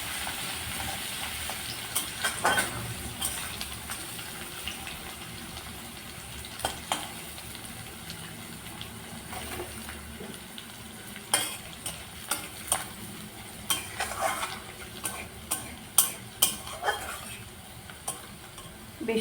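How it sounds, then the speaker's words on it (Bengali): Crushed garlic fries in hot oil in a wok, giving a steady close sizzle with repeated scraping stir clicks of a spatula that grow busier toward the end, with no talking. "রসুনটা একটু ভাজা ভাজা করে নেব হালকা।"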